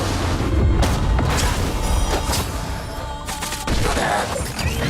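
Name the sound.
explosion from the video game Honkai: Star Rail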